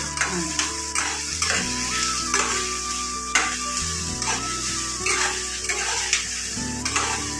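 Onions fry in a hot pan, a constant close sizzle broken by repeated scraping stirs of a spatula against the metal, with a faint steady background hum underneath.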